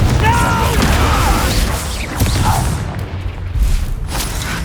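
Confringo fire spell explosion in the game Hogwarts Legacy: dense, booming crashes with whooshing, rumbling combat noise that stays loud and continuous throughout.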